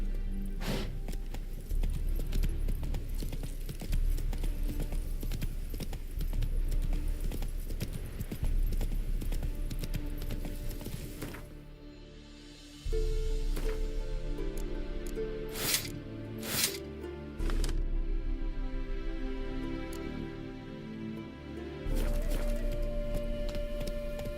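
Hooves of the horse Roach clip-clop steadily in The Witcher 3 as it gallops, a fairly loud rhythmic thudding that pauses midway and resumes, with a few sharp in-game effects.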